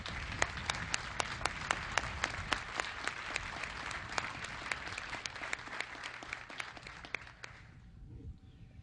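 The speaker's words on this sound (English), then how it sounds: "Please give a round of applause for our soldiers in formation." Applause from the audience at a U.S. Army Medical Command assumption of command ceremony honoring soldiers in formation: sustained, dense clapping with sharp individual claps standing out, fading near the end.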